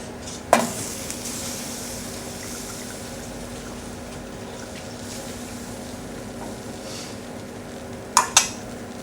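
Roux being stirred in a pan as stock is slowly added, a low steady hum of the kitchen with soft liquid movement and a few sharp metallic clinks of utensil on pan at the start and end.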